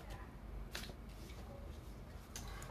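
A single tarot card is drawn from a large deck: quiet papery flicks and a couple of sharp card snaps, close and soft over a low background hum.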